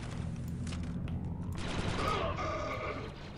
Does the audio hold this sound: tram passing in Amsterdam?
no